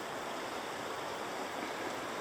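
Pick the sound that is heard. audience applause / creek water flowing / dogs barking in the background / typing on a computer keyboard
creek water flowing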